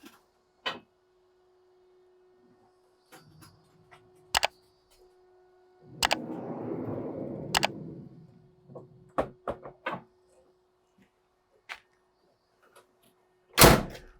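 Scattered sharp clicks and knocks, a brief rumbling slide in the middle, and a loud latching clunk near the end as a canopy door on a 2023 Ford Ranger Raptor pickup is opened and shut.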